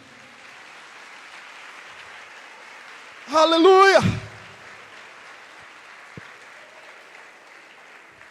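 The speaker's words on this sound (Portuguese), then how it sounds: "Aplauda ao Senhor." A church congregation breaks into a short, loud burst of applause, with a voice calling out over it, before quieting back to a low murmur.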